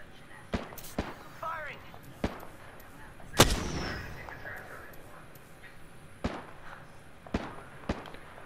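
Sharp bursts of gunfire from the video game Apex Legends, several scattered reports with one louder blast partway through that could be the grenade explosion, heard with light voice chat around it.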